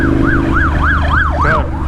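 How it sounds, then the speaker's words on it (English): A police car siren in traffic sounds close and loud as quick, regular rising-and-falling yelps over heavy road and engine rumble, passing while riding a motorcycle. "that's a second police car"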